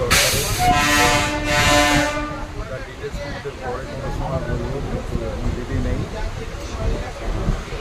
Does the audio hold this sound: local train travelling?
yes